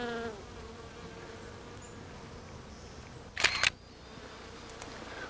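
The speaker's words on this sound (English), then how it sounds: "hit that shutter release button." A single-lens reflex camera shutter release fires once in a quick sharp burst of clicks, set against a faint bee buzz outdoors during nature photography.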